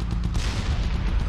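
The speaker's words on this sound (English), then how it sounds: "Now imagine if the firing sound of that Gatling mortar was the same as the normal mortar." A Gatling mortar firing in the naval strategy game Battlecruisers, a rapid run of thudding shots blending into a continuous low rumble, loud and steady for the whole moment.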